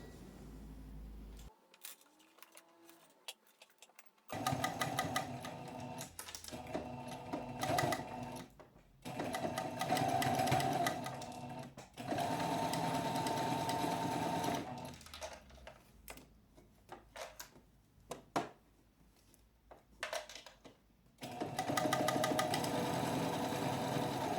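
A sewing machine stitching a t-shirt runs in several long, steady bursts with short pauses between them, close and clear, with no talking.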